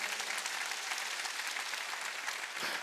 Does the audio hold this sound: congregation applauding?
yes